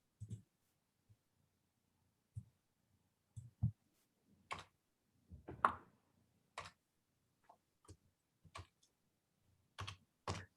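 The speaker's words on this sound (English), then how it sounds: "Typing in iCloud for PC." Keys on a computer keyboard are tapped in short, irregular bursts of soft clicks, close and quiet, with pauses between groups of keystrokes and no talking.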